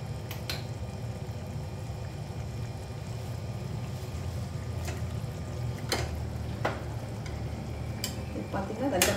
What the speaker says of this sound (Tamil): பார்த்திங்கன்னா நல்லா கொதிக்குது